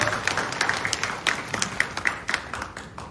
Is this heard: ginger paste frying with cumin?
no